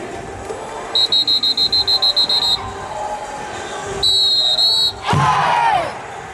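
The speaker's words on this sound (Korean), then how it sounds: "양손 들고 호루라기 소리에 맞춰서 저 음악 소리 묻어버릴 정도로 박수 치면서 어이 함께 외쳐주시기 바랍니다" Cheering crowd at a Korean baseball game timing claps and shouts to a cheerleader's whistle, with a run of rapid rhythmic whistle blasts, then a long whistle and a loud rising crowd yell over music.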